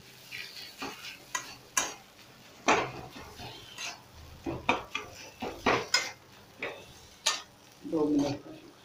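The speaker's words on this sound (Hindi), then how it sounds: "अब इसको अच्छी तरह भूनेंगे मीडियम आंच पे" Vada pav masala roasted over medium heat in a pan, a spoon scraping and knocking against the metal in irregular bursts over a faint background sizzle, close and fairly quiet.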